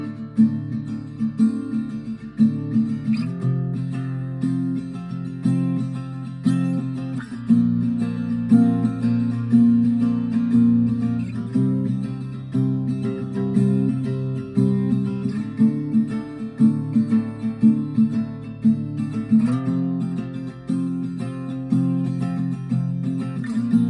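Acoustic guitar cycling through the four chords of a song, strummed steadily and fairly loud for the whole stretch, with chord changes every few seconds and no voice.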